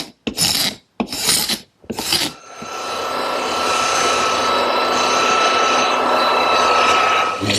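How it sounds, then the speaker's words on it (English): An air-powered random orbit sander smoothing a wooden harvest table top: three short scraping bursts, then a loud, steady whirring drone with a constant whine, close by. "They've had sanders like this in the auto body business for years, run by Air, random orbit sanders"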